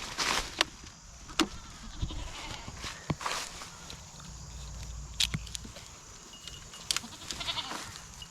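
Goats on a homestead bleat in scattered short calls across the scene, mixed with sharp clicks and clatter, close and moderately loud with no talking.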